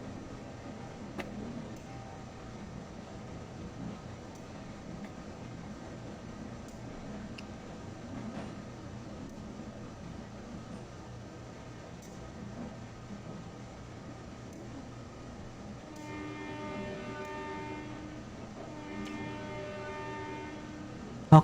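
A train in the Trainz simulator rolls into Talun station with a steady low rumble of engine and wheels, moderately loud, with a tonal horn-like chime sounding near the end.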